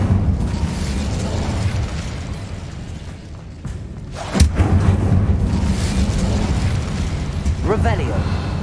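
An Incendio fire spell blast in Hogwarts Legacy erupts as a sudden loud burst partway through, then a roaring, crackling rumble of flames continues beneath a low background hum.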